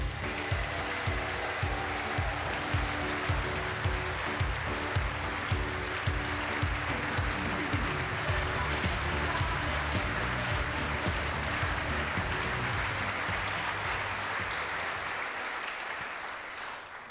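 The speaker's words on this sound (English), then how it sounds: "a big cheer from this expectant crowd here at the Jurors Centre in Perth" A crowd at a bowls match at an indoor centre in Perth cheers and applauds loudly and steadily, with dense clapping that carries on throughout and slowly eases toward the end.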